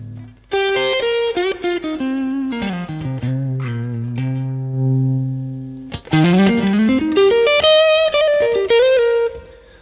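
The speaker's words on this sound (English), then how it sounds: "So I've got an AC30 here, which can be quite dark sounding." Electric guitar played through a Vox AC30 amp with effects, sliding melodic lines and sustained distorted notes, a brief pause, then more phrases with reverb.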